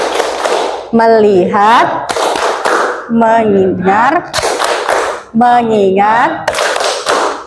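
A classroom of children performs the 'tepuk fokus' focus clap game, sharp group claps in rhythmic bursts alternating with the children chanting words together, loud and close in a lively room.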